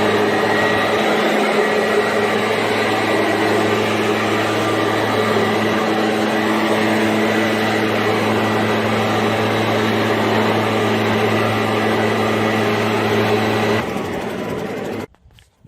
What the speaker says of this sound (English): put the leaf blower to it and blow off any dust before I seal